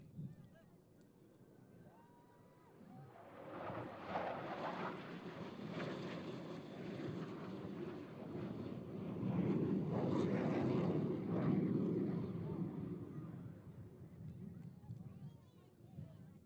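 A Blue Angels solo jet makes a flyby at an air show practice, its roar swelling over several seconds to a loud peak and then fading, with crowd chatter underneath.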